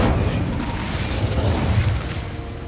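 Incendio fire spell blasting in Hogwarts Legacy: a loud, dense whooshing burst of flame with a deep rumbling body that roars steadily, then eases off slightly near the end.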